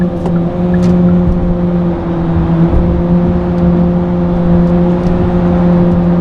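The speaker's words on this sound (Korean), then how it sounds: "너무너무 거칠고 너무너무 터질 듯하고 너무너무 두통을 유발하는 이 엔진 사운드는" A Hyundai Sonata DN8 LPi four-cylinder naturally aspirated engine revs hard and holds at high RPM, a loud, rough, buzzing drone with no one speaking.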